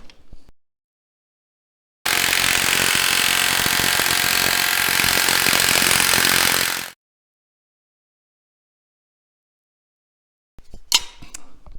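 A power tool drives bolts in during an LS cam swap, giving one loud, continuous burst of about five seconds between stretches of quiet, close up.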